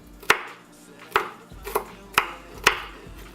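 A knife chops garlic on a cutting board. Five crisp, separate thuds land at uneven intervals, each one close and sharp, with a quiet room in the background.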